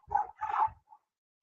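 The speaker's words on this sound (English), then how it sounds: "I have some dogs here." A few dogs bark indoors in the background during an online webinar, giving two close, clipped barks followed by a faint short yip.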